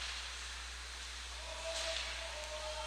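A referee's whistle blows for an offside call during a youth ice hockey game in an arena, a brief thin tone rising out of the steady crowd and rink hiss.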